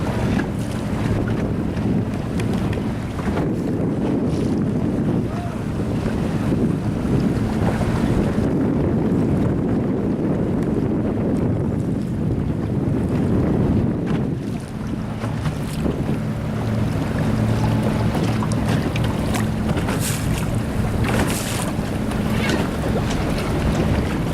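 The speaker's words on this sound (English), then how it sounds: "The wind just might die any second" Wind roars across the microphone aboard a sailboat on a gusty Santa Ana day, loud and constant, with water washing against the hull underneath throughout.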